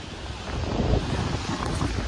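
Strong wind buffets the microphone outdoors with a steady low rumble and gusty surges, loud and unbroken, with no voices.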